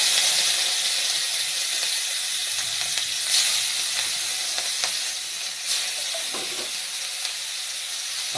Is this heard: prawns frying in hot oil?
yes